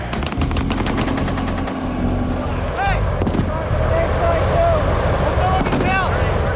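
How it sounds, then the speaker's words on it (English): Sniper and machine-gun fire during an ambush exercise at a combat training school, bursts of rapid shots ringing out close and loud, with a vehicle engine and radio chatter running underneath. "Hidden snipers open fire."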